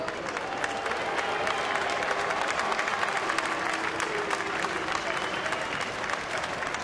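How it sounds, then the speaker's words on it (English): Baseball crowd at a Minnesota–Pittsburgh game giving a batter a mixed reception, steady dense applause from a large stadium audience at a distance with a few boos buried in the roar, continuing unbroken throughout. "I think there was more applause, though. There was a few boos."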